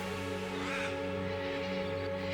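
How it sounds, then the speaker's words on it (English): Crows caw now and then over a steady low hum and background noise, the calls fairly faint and distant, by the Murray River in Australia. "This area abounds with bird life."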